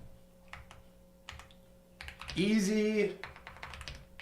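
Computer keyboard typing as a real estate wholesaler writes a listing, with light scattered keystrokes in bursts under brief quiet speech and a louder swelling voice passage midway.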